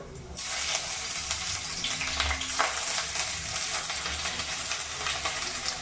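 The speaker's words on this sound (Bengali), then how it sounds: "সবার আগে আমি রসুন কুচি দেবো কোনো ফোড়ন দিচ্ছি না আমি সাদা তেলে পেঁয়াজ কুচি দিয়ে দিলাম" Chopped garlic and onion fry in white oil in a pan, a dense, bright sizzle starting abruptly and holding steady and close, with soft stirring scrapes and no talk.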